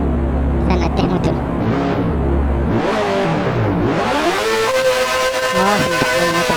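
Motorcycle engine in a Roblox game, a synthetic revving tone that repeatedly rises and falls in pitch, loud and close, with game sound effects layered over it.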